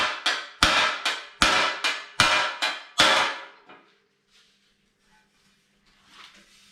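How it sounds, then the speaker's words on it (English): Seven sharp metallic hammer strikes on a steel 1951 Chevrolet front bumper backed by a dolly ring out in a steady rhythm, loud and close, followed by quiet shuffling. "So I'm just gonna do some hammering and dollying on that."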